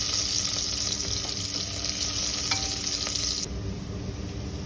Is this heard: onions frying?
yes